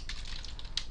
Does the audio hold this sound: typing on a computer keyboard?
yes